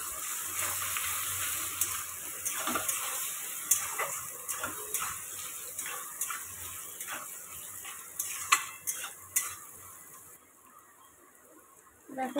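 Eggs fry together with potatoes in a hot pan. A continuous sizzle runs throughout, with the clink and scrape of stirring at irregular intervals, and it fades toward a quieter end.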